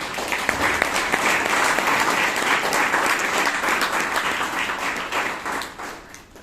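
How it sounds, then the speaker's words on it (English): A room full of people applauding at a Toastmasters meeting in Bangalore, dense steady clapping that carries on for several seconds before tapering off. "So give her a big round of applause"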